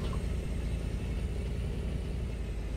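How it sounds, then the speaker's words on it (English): A 1986 Ford F-350 truck's engine runs steadily, a continuous low rumbling idle heard close up with the windows down, alone and without talk. "Let's just roll our windows down here so we can listen to this awesome truck"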